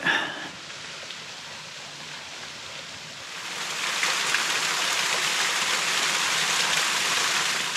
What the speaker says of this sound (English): You can hear some water running down over here.